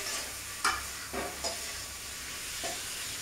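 Chickpeas fry with spices in mustard oil under a continuous soft sizzle, broken by a few sharp scraping stirs of the spoon, close and with no talking.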